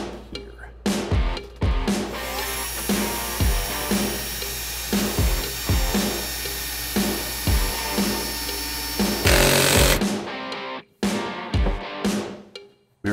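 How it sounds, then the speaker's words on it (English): A power drill bores pilot holes for number 8 screws while an RV refrigerator, a Nova Kool RFU 7300, is installed, with repeated close bursts of whining drilling separated by brief pauses. "So, drilling for number 8 screws."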